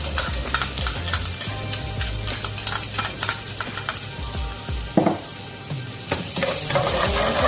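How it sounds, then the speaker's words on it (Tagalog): Onion and garlic sizzling in a pan while frying for pork adobo with pineapple juice, a steady loud crackle with scraping and clinks of a utensil stirring against the pan. "Sabay lang tayo hanggang maluto yung ating onion and garlic."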